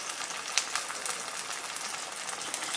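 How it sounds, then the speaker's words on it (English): Fish sizzles in bacon drippings over a lakeside cooking setup, a steady dense crackle with scattered sharper pops, close and fairly soft, with no talk. "fry our fish in bacon drippings"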